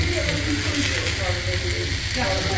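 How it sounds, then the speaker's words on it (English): Spare ribs on a very hot sizzling plate fry with steady, loud sizzling and crackling, continuous and close, with faint background chatter in a pub dining room. "Got a sizzling plate going on here"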